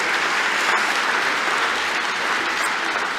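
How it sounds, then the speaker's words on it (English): Steady, full applause from a graduation ceremony audience clapping for the graduates, a dense wash of many hands heard close and continuous. "Let's give all the graduates a round of applause,"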